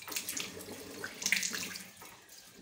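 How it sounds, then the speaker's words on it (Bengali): Running tap water at a bathroom sink as water is splashed onto the face by hand, a steady close wash of flowing water with brief louder splashes and no talk. "এবার আমি চোখে মুখে জল দিচ্ছি ভালো করে।"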